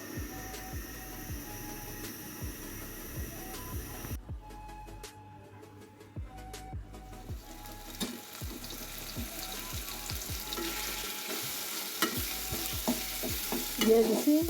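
Onion, garlic, salt, mixed spices, turmeric and chili powder fry in a pan for chicken curry, with a steady low sizzle and repeated stirring scrapes and taps. Brief splashy water sounds also occur, and no one speaks.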